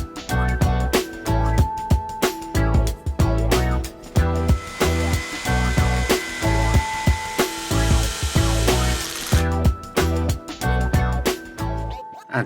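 A screwdriver drives screws to fix a side plate onto an Axial SCX10 III RC crawler chassis, heard as close, repeated short bursts of scraping and clicking turns with brief pauses between them.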